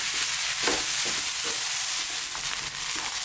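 Cauliflower fried rice stir-fries in a pan over maximum heat, a loud continuous sizzle with rhythmic scraping and tossing sounds as the spatula keeps turning it, close up with no voices.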